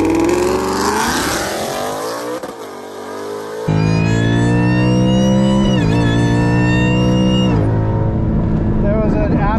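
A built 5.2 VMP Odin supercharger-swapped 2019 Mustang GT launches at a drag race. The engine roars loud and close, revving hard, dropping briefly, then pulling up again in a sustained high-pitched wail.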